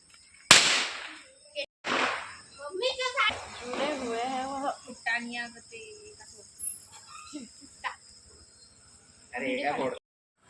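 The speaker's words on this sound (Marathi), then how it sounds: "सर्व मित्रांनो खाली फटाके फोडत आहे" A sharp firecracker bang, then a second pop, followed by people talking nearby at a railway station with brief noisy bursts in between.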